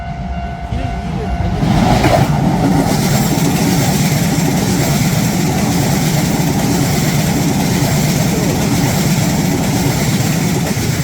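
A commuter train runs past a railway crossing in Tokyo, a loud steady roar of wheels and carriages that swells after the first seconds and keeps rumbling close by with no speech.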